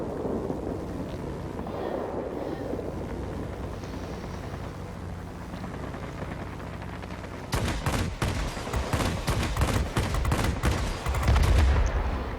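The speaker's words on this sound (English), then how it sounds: "massive amount of firepower colliding with that aircraft all at one time" The J7W1 fighter in World of Warplanes flies with a low engine hum, then its guns open up in a long, rapid, dense burst of fire that rattles on loudly to the end.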